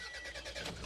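A Toyota RAV4 engine catches and fires up after a jump start, a short burst of cranking turning into a running engine, close and moderately loud.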